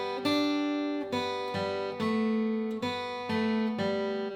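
An acoustic guitar plays the ending of the bluegrass melody Long Journey Home, a handful of ringing notes struck one after another at an even pace, each sustaining into the next, close and clear.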